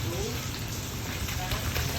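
Steady rain falls in a dense, constant hiss with a low rumble beneath it, filling the whole moment without pause. Nobody speaks over the downpour.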